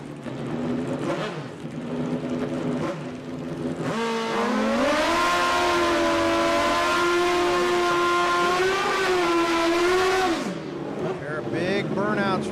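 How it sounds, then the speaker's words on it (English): Drag racing vehicles doing big burnouts at a Hooked on Speed event, loud sustained high-revving engine drone with rising pitch over several seconds, bracketed by shorter revs, with a commentator talking over it. "There are big burnouts right there."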